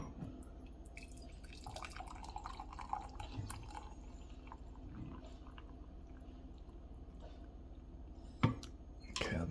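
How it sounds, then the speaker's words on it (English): Water pours and trickles into a mug for steeping black wolfberries in an infuser, a steady soft splashing and dripping flow heard close, with a brief sharper splash near the end. "I'm gonna pour a bit of water into the cup and just let it"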